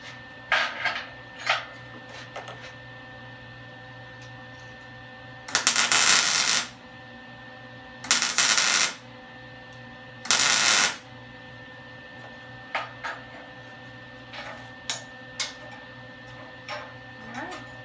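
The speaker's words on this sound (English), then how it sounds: "we'll give it a couple of tack welds where the 2 pieces meet" MIG tack welds joining two scrap metal pieces laid over a bench edge: three loud bursts of crackling buzz, each about a second long, separated by quiet stretches with light clinks and taps.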